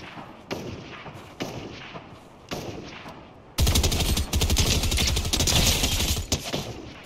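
Gunfire in Fortnite: a few separate loud shots spaced apart, then a sudden sustained burst of rapid, close firing that hammers on for several seconds before easing.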